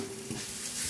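A ground paste of garlic and small onions mixed into a pan is stirred lightly, a brief continuous sizzle and scraping over a faint steady hum.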